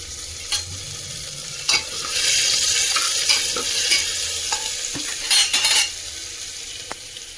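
Tomatoes with salt cooking in a pan for dal fry, with a steady sizzle and frying hiss, and a spoon scraping and stirring against the pan in a few sharp knocks and scrapes, nearby and clear, no talking.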